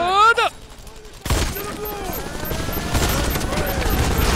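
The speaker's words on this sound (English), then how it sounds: "Why is he shooting at me?" Gunfire in the video game The Expendables 2: after a brief quiet, a dense fusillade of shots and explosive bursts erupts and runs continuously, loud and close, with talk beneath it.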